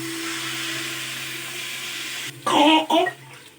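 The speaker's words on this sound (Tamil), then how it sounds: "இப்போ வந்து தேவையான அளவுக்கு தண்ணி ஊற்றிக்கிறேன்" Water is poured into spicy crab gravy in a pan: a quiet steady hum gives way to a short loud burst of splashing pouring near the end, close by.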